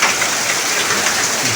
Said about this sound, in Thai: ฝนตกหนักตอนบ่าย